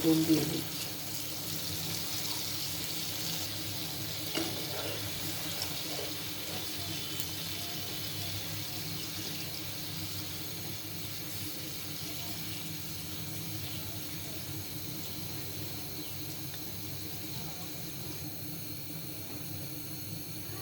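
Water poured into a pan of fish curry cooking on the stove: a steady, even rushing and hissing of liquid running throughout, fairly close, with faint background noise.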